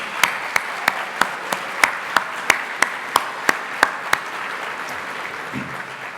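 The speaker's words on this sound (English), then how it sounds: "Please give yourselves a huge round of applause." A conference audience applauds, with crisp, evenly spaced claps standing out in a steady rhythm over a soft crowd wash, then the beat stops and only the low murmur remains.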